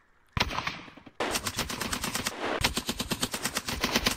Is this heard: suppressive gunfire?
yes